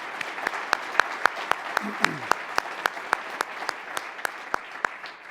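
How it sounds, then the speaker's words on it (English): Sparse, evenly paced claps from a small audience at a Canadian Club luncheon event, honoring Amanda and Dan; distinct individual hand claps over a quiet room murmur, fading slightly toward the end. "If I could just ask for a round of applause for both Amanda and Dan."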